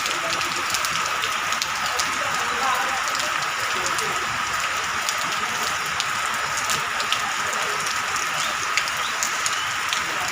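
Rain falls on a metal sheet roof in Palus, Maharashtra, making a steady bright hiss scattered with sharp little drop taps that go on without a break.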